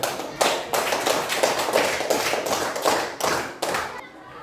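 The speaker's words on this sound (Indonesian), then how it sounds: "tepuk tangan dulu untuk Tara dulu" Schoolchildren in a classroom clap for their classmate Tara, a loose burst of separate hand claps in uneven rhythm that stops abruptly near the end.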